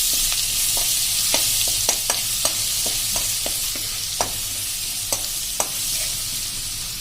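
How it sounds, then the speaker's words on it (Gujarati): A paste of garlic, ginger, pepper, cinnamon and cloves sautés in a pan with a steady, moderately loud sizzle, punctuated by scattered sharp pops and spatula taps. "આ જે પેસ્ટ આપણે બનાવી છે લસણ ને આદુ, મરી, તજ ને લવિંગ એ નાખી દેશું, અને એને આપણે સરખી સાંતળી લેશું"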